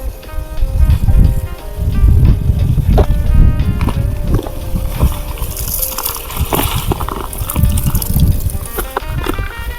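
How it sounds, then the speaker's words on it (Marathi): Wind buffeting a microphone outdoors while soil and water go into a black turmeric planting under coconut trees, loud low rumbling gusts in uneven bursts with faint tonal background sounds. "वारं चालू आहे, त्याच्यामुळे व्हिडिओमध्ये वाऱ्याचा आवाज येणार."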